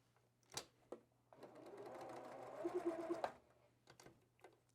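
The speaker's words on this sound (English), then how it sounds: "So our sewing construction is actually going to be this seam here." Sewing machine running steadily for about two seconds as it stitches a quilt block seam, a continuous whirring hum preceded and followed by a few faint clicks and handling sounds, close and fairly quiet.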